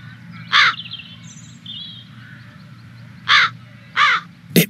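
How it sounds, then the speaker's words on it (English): Crows caw repeatedly nearby, one call and then a pair of loud harsh caws in an uneven rhythm, with fainter bird calls in between over a low ambient rumble. "Something's wrong with those crows."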